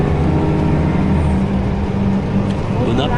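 Steady low engine rumble and road noise from inside a moving bus, with faint voices murmuring in the background.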